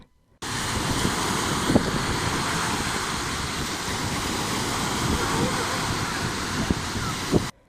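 Strong sea waves on a beach at Bartın, a continuous loud roar of surf and wind buffeting the phone microphone, with a few faint thuds and no clear speech.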